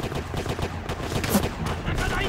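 Enemy machine gun fire in Call of Duty: World at War, a dense, continuous clatter of gunfire with shouted voices mixed in throughout.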